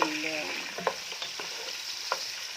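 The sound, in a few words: diced sausage frying in a pan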